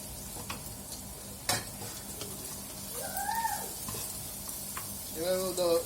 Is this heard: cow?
no